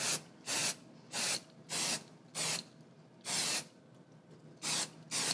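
Repeated short bursts of Apple Garde protector spray on Louis Vuitton vachetta leather, about nine hissing pulses in an uneven rhythm with brief quiet gaps, close up.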